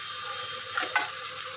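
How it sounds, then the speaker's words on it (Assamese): Chilli powder, salt and turmeric frying in oil with fried onions, a steady soft sizzle with one or two brief stirring scrapes near the middle, close and fairly quiet. "এতিয়া মছলাখিনি ভাজি ল'ম"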